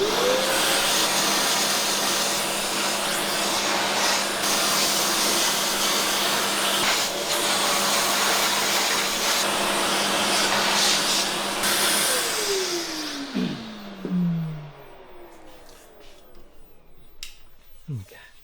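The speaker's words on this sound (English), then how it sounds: "I'm gonna just hoover them." A vacuum cleaner hoovers up metal filings left from sharpening a saw, droning loudly and steadily for about twelve seconds before the motor winds down and stops, followed by faint clicks and handling sounds.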